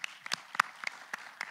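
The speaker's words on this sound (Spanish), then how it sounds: "Un aplauso, por favor" Applause from the audience at a university lecture opening, heard as sparse, scattered claps from a small group, fairly faint and uneven over a short stretch.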